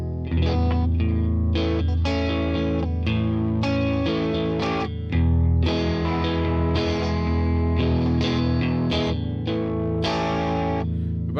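Electric guitar played through an amp simulator with distortion, chorus and reverb effects rings out in loud strummed chords and sustained notes, continuous for about eleven seconds with no talking.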